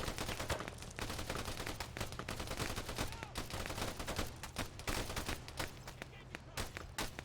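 Battlefield gunfire in Arma 3 crackles continuously, with sharp reports and bursts layered over a low rumbling background, some shots nearer and louder than others, while a voice speaks faintly in the mix.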